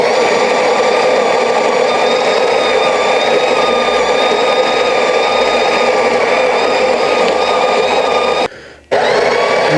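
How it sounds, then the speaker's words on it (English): Built-in grinder of a Breville Barista Pro espresso machine grinding coffee beans, a loud, steady high-pitched whir that runs nearly ten seconds, cuts out briefly, then resumes. "So obviously we have this beautiful grind right here."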